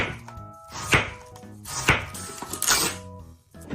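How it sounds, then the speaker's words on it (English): Kitchen knife slicing cabbage into thin shreds on a cutting board, a quick run of crisp, close chopping strokes in an uneven rhythm with no talk. "Slice it very finely into thin shreds."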